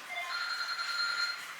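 A telephone rings nearby in a home, a steady electronic tone sustained for over a second with no talk over it.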